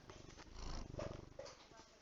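A domestic cat purrs close to a microphone, a low rumbling vibration running throughout the short stretch, moderately loud with a steady pulsing texture.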